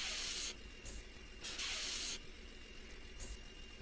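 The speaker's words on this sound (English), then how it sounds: "Parking brake." Air brake hiss of a 2015 Blue Bird WorkStar school bus in the Rigs of Rods driving game, several short bursts of hissing air that quickly fade, over a faint steady engine hum.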